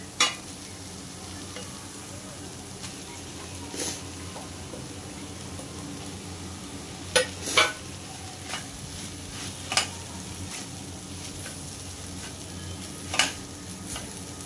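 Kachori filling of boiled potato being sautéed in a pan: a steady soft sizzle with occasional sharp scrapes and clinks of stirring, close and moderately quiet, no voices.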